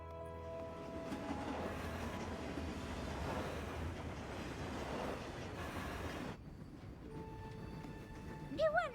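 A train rumbles and clatters steadily in an animated My Little Pony cartoon, a continuous rolling roar that cuts off abruptly, followed by quieter tones and a brief rising whistle-like squeal.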